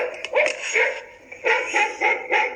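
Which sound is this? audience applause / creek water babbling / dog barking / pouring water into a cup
dog barking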